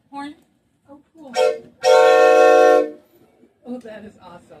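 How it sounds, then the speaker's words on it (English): Loud, sustained train horn blasting for about a second near the middle, with people talking briefly before and after it. "That is a train horn."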